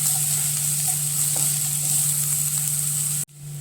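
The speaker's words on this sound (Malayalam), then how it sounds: "നന്നായി ഇളക്കി കൊടുക്കുക." Chopped onions sizzle steadily in a frying pan while being stirred for a mushroom soup, a loud continuous fry with a few soft scrapes, cutting off abruptly near the end.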